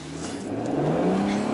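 A 2017 Acura NSX supercar revs hard, its engine note climbing steadily in pitch and loudness over a brief burst, close and dominant with no talk.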